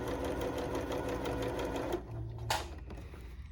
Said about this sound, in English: We're going to sew across this from one side to the other.